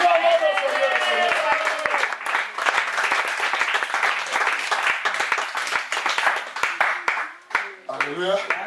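A church congregation applauding during a worship service, dense sustained clapping mixed with shouting and cheering voices, with loud amplified singing or talking over it at the start.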